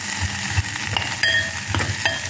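Large onions sauté in a pan for a South Indian kadapa, sizzling steadily close up with intermittent scrapes and clinks of stirring and no talk.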